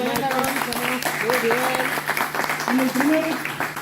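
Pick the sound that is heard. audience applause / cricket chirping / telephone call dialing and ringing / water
audience applause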